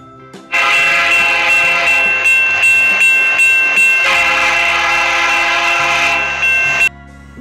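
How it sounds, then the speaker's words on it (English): A train passes close by with a loud, sustained horn blast and a rhythmic clatter of wagons, the sound starting abruptly and cutting off sharply after about six seconds. "T for train."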